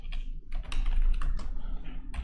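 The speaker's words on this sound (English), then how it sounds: "So I will type it here, npm" Fingers type quickly on a computer keyboard, entering a terminal command, with a dense close-up patter of clicking keystrokes throughout and no talking.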